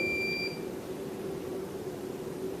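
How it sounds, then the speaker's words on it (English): A quiz competition buzzer at a conference gives one short, thin electronic beep at the start, then a quiet room hum continues alone. "I think only one team pressed the buzzer."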